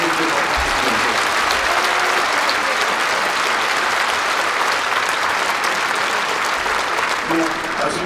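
Loud, sustained applause from a concert audience at an 85th-anniversary performance of the Loktev Ensemble, a dense, continuous wash of clapping filling the whole stretch.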